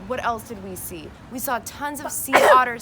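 One sharp sneeze bursts out near the end, loud and close, following a stretch of relaxed conversation between people.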